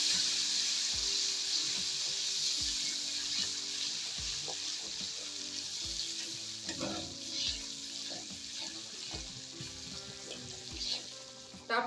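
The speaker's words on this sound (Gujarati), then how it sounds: "આદુ અને લસણની પેસ્ટ બનાવી છે એ નાખી દઈશું અને ગેસને એકદમ ધીમો રાખવાનો છે" Ginger-garlic paste sautés in oil over a very low flame, for Kathiyawadi-style chilies in gravy; a gentle, continuous sizzle fills the clip, broken by frequent light clicks and scrapes of stirring, with no one speaking.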